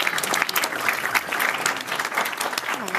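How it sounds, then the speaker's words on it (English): A crowd applauds steadily and loudly at a student event at Eastern Michigan University, dense clapping filling the room throughout without pause. "Round of applause for all of the students who are here as well."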